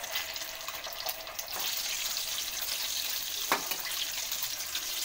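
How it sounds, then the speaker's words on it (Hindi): Chicken macaroni samosas deep fry in hot oil, giving a steady, bright hiss and sizzle that holds evenly throughout, close up and with no talk over it. "हमारे समोसे फ्राई हो रहे हैं"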